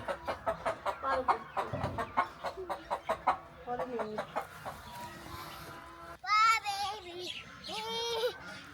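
Chickens clucking on a free-range farm where hens are kept safe from foxes; a hen cackles in short, repeated bursts near the microphone, with another person's voice joining briefly.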